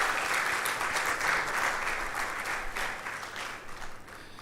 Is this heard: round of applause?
yes